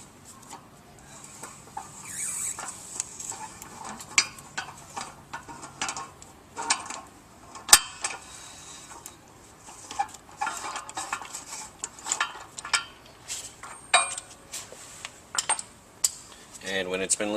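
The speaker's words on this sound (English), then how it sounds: "we'll use a 41mm socket to loosen the shaft seal." A 41mm socket loosens the shaft seal on a Grundfos CR pump, producing close metallic clinks, ticks and ratcheting scrapes in an irregular rhythm, with someone talking faintly in the background.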